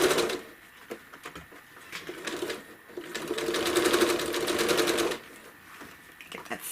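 A sewing machine stitches through a quilted American flag panel in short bursts, a quick back-and-forth run then a steadier, louder stretch of rapid needle clatter before stopping, close and alone with faint background ticks.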